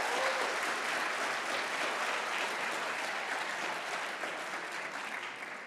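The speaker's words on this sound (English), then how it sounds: "You can clap for that." An audience at a physician assistant white coat ceremony bursts into steady applause, a dense, even clatter of many hands that fades slightly toward the end.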